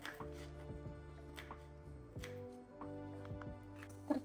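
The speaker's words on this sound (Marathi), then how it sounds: "मी खोबरं ते कापून घेते" A knife chops dried coconut on a home kitchen board in about eight quiet, evenly spaced thuds over a steady low background hum.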